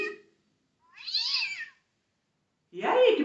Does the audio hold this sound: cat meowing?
yes